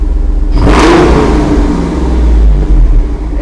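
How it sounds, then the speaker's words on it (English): A loud engine rev from a supercharged Jeep Rubicon 392 with performance exhaust surges up sharply, then settles into a deep, throbbing exhaust rumble that carries on steadily close by. "Can you guys believe a Jeep can sound like this?"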